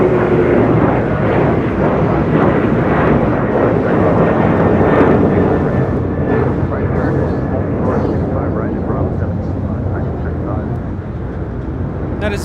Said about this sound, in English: That is United Airlines 1278 taking off to Cancun on the 737-900 ER.